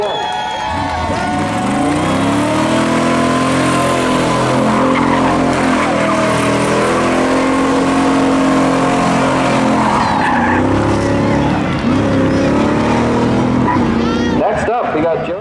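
Spectator drag racing at a Memorial Day thrill show, with loud engines roaring steadily throughout and tire noise. A crowd and an announcer's voice sit under the din, which tails off abruptly at the end.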